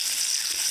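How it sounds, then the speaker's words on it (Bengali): Potatoes fry in oil left over from frying rohu fish in a karahi, giving a brief, steady hiss of bright sizzle, close and even, with no voices. "এবার এই মাছ ভাজার তেলে আলুগুলো ভেজে নেব।"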